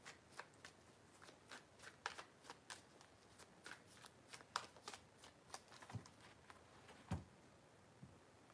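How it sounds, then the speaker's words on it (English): Tarot cards shuffled by hand, with a quiet, close run of crisp riffling snaps and taps in an irregular rhythm, no talking. "3 shuffles"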